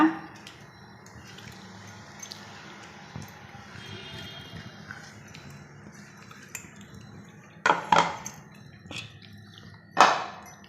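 Ground paste is stirred into horse gram rasam in a metal pot: soft scraping and swirling, then a few sharp, close clinks of a utensil against the pot, with a faint voice in the background.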